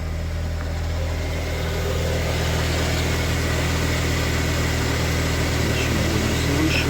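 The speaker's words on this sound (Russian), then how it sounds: "Вот машина работает на холодную." A car engine idles cold just after starting, at raised revs, with a steady low rumble and hum that holds evenly and close throughout, without talk.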